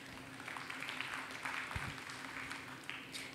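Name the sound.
audience applause for demonstration assistant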